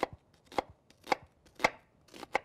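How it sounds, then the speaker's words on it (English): A knife chops an onion on a cutting board in five crisp, evenly spaced strikes about half a second apart, close and clear against a quiet kitchen. "I just fan my knife right around that onion"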